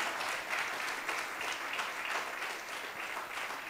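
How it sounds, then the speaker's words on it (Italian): At a literary prize ceremony in Olbia, an audience gives steady, dense applause for the library staff and director, the clapping sounding somewhat distant and holding at an even level for the whole stretch. "per il quale vi chiedo un forte applauso"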